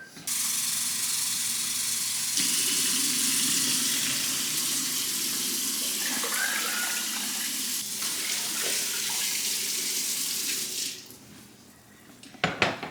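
Tap water runs steadily into a container to make a vinegar cleaning solution, a continuous loud rush that shifts in tone as the container fills, then cuts off near the end with a few clinks.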